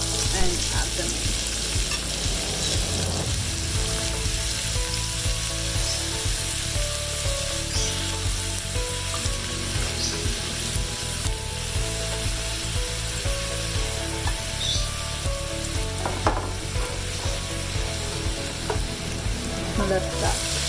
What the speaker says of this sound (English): Let that saute down, and you want this to become translucent.